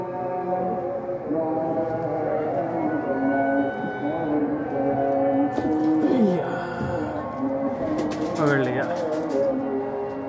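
Fancy pigeon cooing in soft, low throaty bursts, caught at night with a call to prayer sounding nearby and someone talking over much of it.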